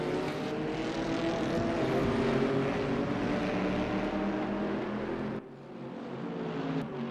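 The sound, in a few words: race car engine at full throttle at Monza in video game RaceRoom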